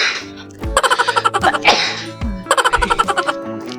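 A single sharp sneeze bursts out between quiet pauses, followed by a short run of rhythmic, laugh-like bursts; no speech around it.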